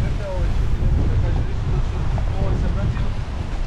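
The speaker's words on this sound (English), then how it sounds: "Wow, what a blustery day in Marsaxlokk." Strong, blustery seaside wind at Marsaxlokk buffets the microphone with a steady loud roar and low rumble, with faint surf beneath.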